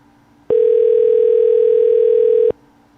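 A telephone call-back produces a single loud, steady electronic tone lasting about two seconds, starting and stopping abruptly against quiet background.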